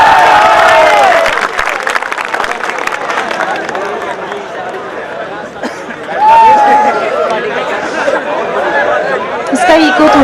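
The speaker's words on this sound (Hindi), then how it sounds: "एक बार तुम तालियां खुलकर बजा दो" Audience applause and crowd chatter fill a Hindi poetry gathering (kavi sammelan), a loud continuous wash of clapping mixed with voices that dips briefly in the middle and then swells again.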